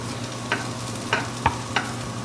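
Garlic, celery and onion sizzle steadily in a pan under a constant frying hiss, with four distinct stirring scrapes spaced about half a second apart.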